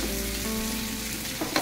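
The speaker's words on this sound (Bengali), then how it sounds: "এবার আমি দিয়ে দেবো পেঁয়াজ কুচিটা। পেঁয়াজ কুচি সাথে 2টা মরিচ কুচি করে দিয়েছিলাম।" Chopped onion and green chilli fry with garlic in a pan for a chicken sandwich, a steady close sizzle with a faint hum beneath and a couple of quick stirring knocks near the end.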